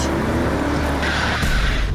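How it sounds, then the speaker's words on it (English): A car rushes toward a residential street where a child is playing, its engine and tires building into a loud, close rush that swells near the end, with no talk over it. "Luke, car! Look out!"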